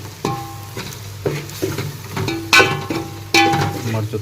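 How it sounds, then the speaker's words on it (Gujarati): Green chili sizzles in hot oil in a pan, with a steady frying hiss under clattering stirring and scraping strokes that come in short bursts, close and fairly loud. "મરચું થોડું તેલમાં થોડું ફ્રાય થઈ જાય"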